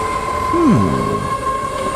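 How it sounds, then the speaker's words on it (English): A train passes in the railway video game NIMBY Rails, rolling with a steady rail hum and a short swooping tone near the start, heard alone. "This train is bound for Greenwood, Lake Winnebago."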